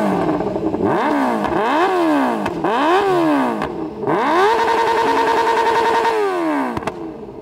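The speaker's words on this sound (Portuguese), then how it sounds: "Eu ficava acelerando essa moto" A motorcycle engine is revved repeatedly inside a shop garage, several rising and falling throttle blips in quick succession, loud and close, ending in one longer sustained rev.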